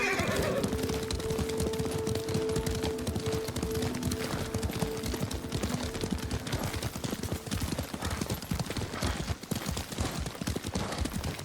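Horse hooves clip-clop in a steady running rhythm with a whinny near the start, from riding in the video game Ghost of Tsushima; moderately loud and continuous, with no talking.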